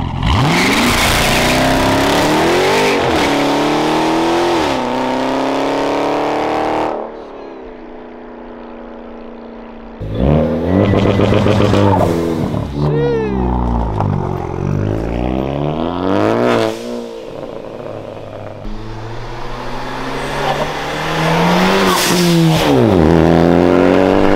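A 2020 Dodge Charger Daytona with a mid-muffler delete revs hard and close, its engine climbing and falling through repeated throttle blips with a loud, raspy exhaust note, a brief quieter idle in between, then more aggressive revving.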